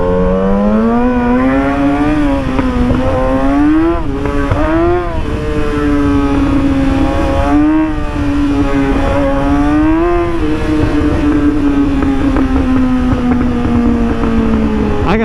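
A motorcycle rides at speed with a loud, steady engine drone whose pitch rises and falls with throttle changes throughout, close and continuous with no talking.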